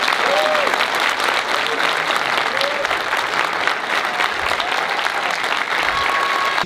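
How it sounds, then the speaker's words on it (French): Sustained audience applause at a live comedy show, a dense steady wash of clapping from a large crowd that stays loud and even from start to finish. "tonnerre d'applaudissements pour mon plus grand pilier."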